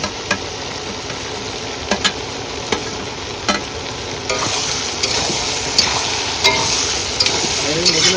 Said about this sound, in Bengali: আমাদের মাছগুলো কিন্তু ভাজা হবে এইবার